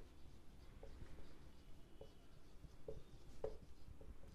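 Pen scratching across a ledger page during an accounting lesson, a handful of faint, brief strokes at irregular intervals over a soft room hiss, with no talking.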